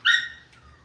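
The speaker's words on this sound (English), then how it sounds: "the animal you hear is not my dog. That is a ferret that you can probably hear" A ferret about 20 yards away gives one short, high squeaky cry that fades quickly into a quiet background.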